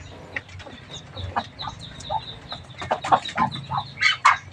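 Backyard chickens, including newly hatched stock, cluck and chatter close by in a busy, irregular series of calls, with some louder bursts near the end.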